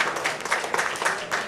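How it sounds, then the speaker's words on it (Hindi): A live audience at a devotional music event claps steadily, with dense, even applause that holds for a moment and carries no clear speech. "मैं चाहता हूं कि फिर एक बार दिल से ताली बजा दीजिए, दिल से।"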